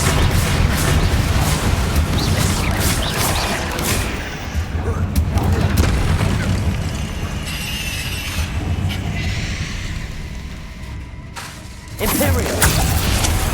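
Bombarda explosion spell in Hogwarts Legacy, with whooshing spell casts and booming blasts over a dense, loud game soundscape, plus a sharp burst near the end; a voice speaks throughout.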